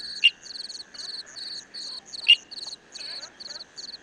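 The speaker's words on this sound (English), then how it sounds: "emerald tree frogs happily hide in the shade of lush green leaves, calling their mates" Emerald tree frogs call from shaded, leafy cover in a misty rainforest, giving repeated high, insect-like trills in short even bursts over a steady background chorus. Two sharper chirps stand out near the listener, and no one speaks.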